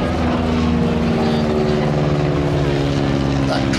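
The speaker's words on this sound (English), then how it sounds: "that classic sound of a biplane in flight." A loud, steady droning propeller engine of a Boeing Stearman biplane in flight at an airshow, with a constant low hum and a faint voice underneath.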